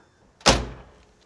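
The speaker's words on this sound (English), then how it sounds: "That clever sound when you close the door is very distinctive with Porsche." A classic Porsche 911 door, fitted without door panels, swings shut and latches with one sharp, close, solid thunk and a brief hollow ring that fades quickly, with no voices.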